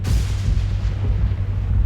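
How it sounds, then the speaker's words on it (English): Low, heavy thunder rumbles and booms steadily through a stormy house setting in the video game Gone Home, loud and close, with no voices. "There's that thunder again."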